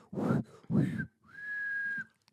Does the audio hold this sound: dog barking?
no